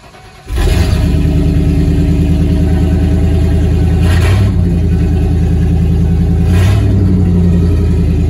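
A 1996 Ford E-350 van engine with no catalytic converter roars loudly and steadily after a sudden start, a harsh, unmuffled rumble with slight surges in revving.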